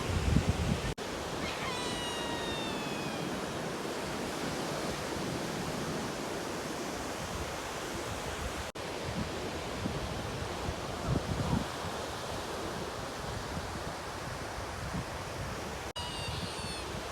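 Ocean waves at a bay in Hopetoun, Western Australia, form a steady, broadband wash of surf that fills the whole stretch at a constant level, with a few faint high chirps at the start and near the end.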